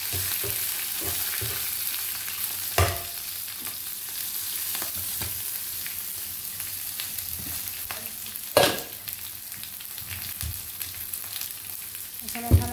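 Green chillies frying in a pan, giving a steady close sizzle with occasional stirring scrapes and a few sharper clatters against the pan.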